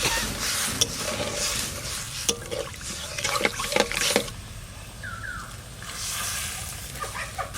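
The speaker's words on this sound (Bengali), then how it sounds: "এই জলটা কড়াইতে দিয়ে দেবো।" Water mixed with ground mustard is poured into a wok (kadai) while cooking river rohu fish curry, a soft, close liquid splashing and trickling that comes in several uneven bursts.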